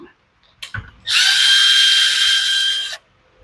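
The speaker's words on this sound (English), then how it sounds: "We're using a 5/16 to get the two bolts off." A small power tool, likely a drill driver with a 5/16 socket, runs steadily for about two seconds while removing the carburetor bolts on a Husqvarna 128LD chainsaw, preceded by a couple of brief clicks and handling knocks nearby.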